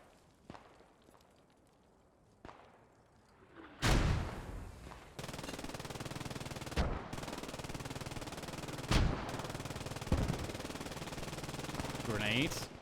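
Rifle and machine gun fire in the WWII shooter Post Scriptum during a realism event: a few sharp distant shots, then loud close bursts of automatic fire with heavy booming reports over sustained battle din, with voices talking.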